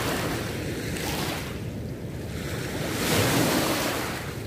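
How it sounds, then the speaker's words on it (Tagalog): A strong water current rushes near a rocky spot, making a steady, loud roar that swells and fades with wind buffeting the microphone. No one speaks. "Lakas ang agos."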